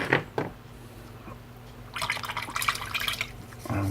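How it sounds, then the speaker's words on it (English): A paint brush swished and rinsed in a small cup of water while painting a miniature figure, with light drips and splashy swirls close up, brief taps, and a low background hum. "And I'll just wash that brush out"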